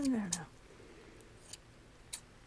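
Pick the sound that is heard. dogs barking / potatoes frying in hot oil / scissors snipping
scissors snipping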